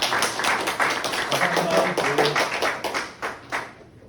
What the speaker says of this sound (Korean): 여러분 마지막 박수를 한번 감사합니다